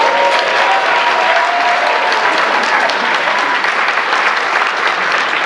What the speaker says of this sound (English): I know he wants to hear the applause.